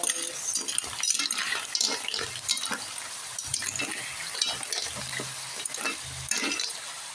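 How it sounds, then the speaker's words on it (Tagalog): Sautéed octopus stirred in a hot pan, a steady sizzle broken by scraping stirs and soft clanks of utensil against metal, close and continuous. "Haluin muna natin bago lagyan ng sabaw"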